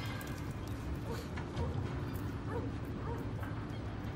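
A dog named Tyson yips and barks in short bursts, fairly faint, amid quiet background chatter from people nearby.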